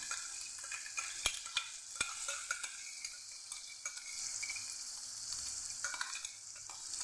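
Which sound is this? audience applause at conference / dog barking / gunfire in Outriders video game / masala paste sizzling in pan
masala paste sizzling in pan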